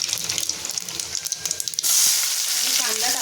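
Asafoetida and garlic drop into hot oil for a rajma dish, with soft crackling that becomes a sudden loud, steady sizzle partway through, close and continuous.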